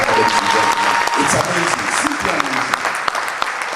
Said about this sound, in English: A bigger round of applause for the DG.